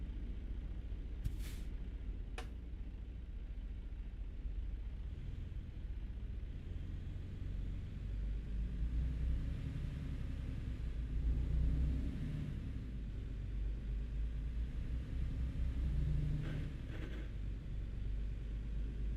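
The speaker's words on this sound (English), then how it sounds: "My truck is falling apart, or at least it sounds like it is." Truck in a trucking simulator game, set in Louisiana, rumbling steadily with a low engine drone and occasional rattles and air-brake hisses, continuous and fairly close throughout.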